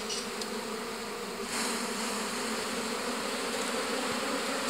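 Honeybees buzzing in a hive on frames of paraffin wax, a dense continuous drone that is loud and close and swells slightly partway through, with no voices.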